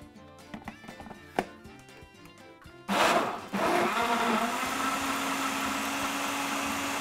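A kitchen blender whirs loudly as it mixes pineapple and guava, starting with a sudden burst after a few light clinks and settling into a steady, close motor drone.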